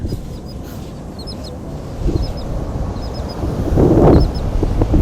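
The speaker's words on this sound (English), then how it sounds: "Beach pigeons." Short, scattered calls of pigeons on a beach over gusty wind buffeting the microphone, with a louder gust near the end.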